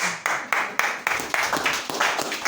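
Rhythmic group hand clapping in a church service, steady claps repeating roughly every quarter second, close and fairly loud with a lively, slightly uneven beat.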